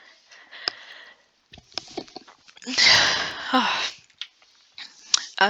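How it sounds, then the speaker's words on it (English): A single forceful human sneeze bursts out close and loud in the middle, preceded by sniffing and small breaths and followed by quieter breathy sounds. "I am about to sneeze."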